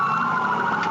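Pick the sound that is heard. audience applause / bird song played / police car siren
police car siren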